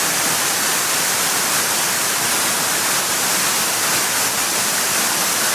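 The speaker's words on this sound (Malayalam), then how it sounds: "ഏകദേശം ഒരു 20 മീറ്റർ പൊക്കമുണ്ട് കേട്ടോ ഈ വെള്ളച്ചാട്ടത്തിന്" Achankallu waterfall, about 20 metres high, roars as a dense, steady rush of falling water, loud and unbroken throughout.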